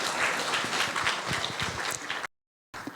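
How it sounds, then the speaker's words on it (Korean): Audience at a Korean cinema forum applauding a professor before a talk: dense, lively clapping at a steady level, then an abrupt cut to silence before the clapping briefly returns. "큰 박수 부탁드립니다."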